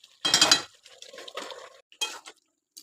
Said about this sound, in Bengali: এবার আমি আবার ঢাকাটা দিয়ে দেবো।